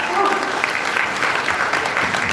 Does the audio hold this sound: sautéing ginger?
no